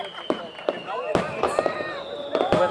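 Festa Major fireworks in Sant Feliu de Guíxols bang and crackle overhead in a quick series of sharp bursts, with whistling, fizzing trails, spinning effects and a crowd murmuring in the background.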